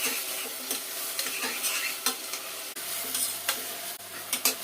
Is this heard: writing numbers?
no